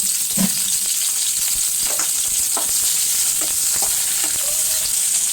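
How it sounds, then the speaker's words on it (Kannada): Tomatoes frying in a pan for a North Karnataka peanut sambar, a steady close sizzle with occasional stirring scrapes and soft knocks, no talking. "ಈ ತೆಗೆದು ಟಮಾಟೆ ಹುರ್ಕೊಂತೀನಿ"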